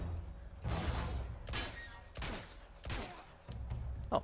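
Gunfire in the video game Uncharted comes as a series of separate cracking bursts, about six spaced over a few seconds at moderate distance, over a quiet background.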